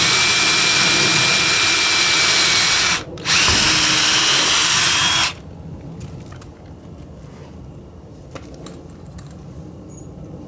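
Power drill driving a 1.5-inch stainless steel screw into a greenhouse frame over a 2x4, a loud continuous whine with a brief break, then stopping abruptly to quiet background with faint clicks.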